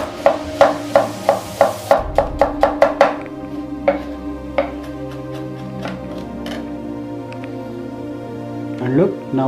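A knife slices an onion on a cutting board in quick, evenly spaced chops for about three seconds, then slower, sparser cuts follow over a steady tonal background.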